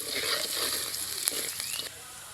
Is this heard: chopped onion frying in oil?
yes